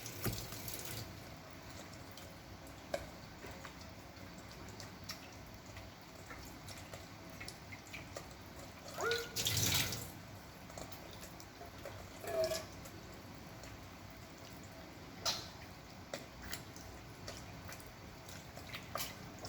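Homemade butter being washed by hand in water in small batches gives faint, intermittent sloshing, splashing and dripping, with quiet gaps and no talk.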